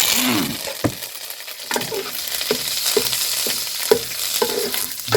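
Chillies and curry leaves hit hot oil for tamarind rice, crackling and popping close by in sharp bursts over a constant sizzle, with stirring scrapes between the pops.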